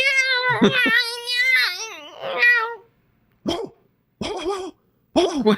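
A human voice imitates a dog, producing a string of yapping, whiny barks followed by several short, sharp bark sounds separated by pauses.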